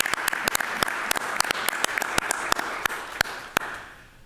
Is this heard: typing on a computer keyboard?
no